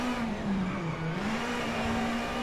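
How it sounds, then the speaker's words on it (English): Ford Fiesta WRC rally car in WRC 8 power-sliding through a corner, engine droning steadily at high revs with a slight dip in pitch mid-slide, loud and continuous with gravelly tire noise underneath. "throttle early, just power slide through the corner"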